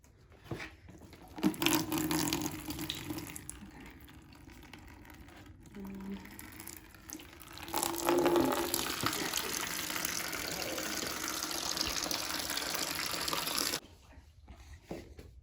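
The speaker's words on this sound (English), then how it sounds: "Once you've removed the cap to the drain, you can go ahead and remove the plug." Water draining from the drain of an Avalon water cooler, a steady gushing flow that starts, runs continuously for several seconds and then stops, with faint handling noises.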